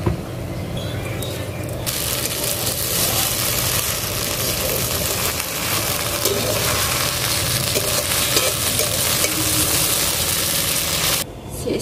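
Chow mein with fried egg and meat bits is stirred in a pan over a clay stove on a rooftop, a continuous loud scraping and sizzling with steady clatter, running alone without talk.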